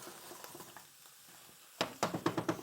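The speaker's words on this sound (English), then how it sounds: "we're going to get that butter mixed up into there" Chanterelle mushrooms and butter are stirred in a pan. A faint, quiet sizzle comes first, then about six quick, close scraping strokes follow one another in a brisk rhythm near the end.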